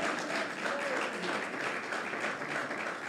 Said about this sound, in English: Come on, clap your hands for Jesus.